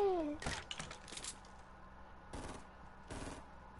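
Suppressed SMG bursts in a video game, several short muffled volleys of rapid fire spaced across the moment, close and moderately loud over faint game background.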